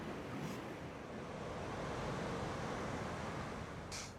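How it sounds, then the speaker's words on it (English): Steady broadband wash of ocean surf rolling continuously at Polly's Cove, Nova Scotia, with a soft hiss and no voices. "listen to the sounds of the ocean, breathe in the salty air"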